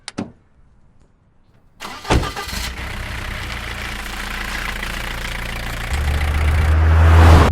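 A car engine cranks and catches after a couple of sharp clicks and a short quiet stretch, then settles into a steady idle and builds in rumble and revs as the car pulls away.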